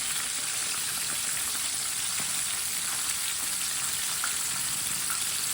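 Chicken pakora pieces fry in hot oil over a medium flame, giving a steady, close crackling sizzle with fine popping throughout and no voices.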